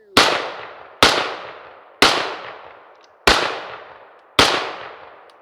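Five loud rifle shots from a Chinese Type 56 SKS, fired outdoors roughly one second apart, each a sharp crack with a decaying tail, no talking.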